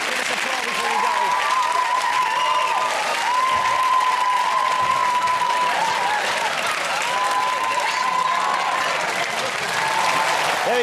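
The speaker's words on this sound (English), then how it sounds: "Give us a applause before you go." A TV chat show studio audience applauds loudly and steadily, dense clapping with whoops and cheers, while a voice carries on over the noise.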